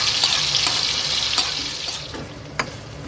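Chicken pieces sizzle and spit in hot oil in a kadai, a dense, loud, close frying hiss with a few sharp crackles and pops, no voices.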